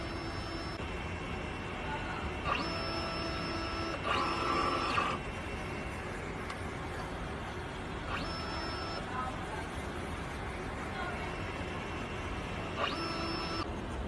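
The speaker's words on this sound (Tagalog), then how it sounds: "Ganito po ang tamang pag-head clean." Printer running a print head cleaning cycle, a low mechanical hum with several whirring bursts of its motors, while a person talks over it.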